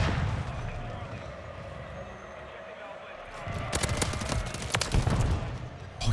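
Gunfire from an SVA 545 rifle in the video game Modern Warfare 3, a cluster of sharp shots over a rumbling battlefield backdrop, with someone talking quietly over it.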